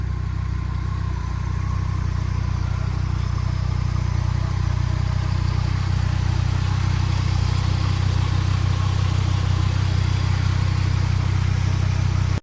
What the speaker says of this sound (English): The car is working. It's been running for over 10 minutes.